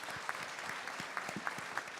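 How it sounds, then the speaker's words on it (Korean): An audience applauds at a parents' talk concert on Korea's free-semester program in Sejong, a steady, moderately soft wash of many hands with a few sharper claps standing out. "박수 한번 보내주십시오."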